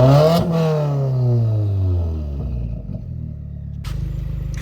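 Subaru WRX with an aftermarket exhaust revs up hard and then lets its pitch fall away, with a brief sharp burst near the end before a steady low idle rumble, loud and close.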